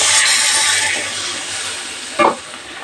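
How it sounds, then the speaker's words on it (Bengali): Water is poured into ground cumin and coriander in a hot cooking pan, giving a steady, fairly loud hiss and sizzle that fades slightly, then a brief splash or stir near the end. "গুঁড়ো মশলা যাতে পুড়ে না যায় একটু জল অ্যাড করে দিলাম"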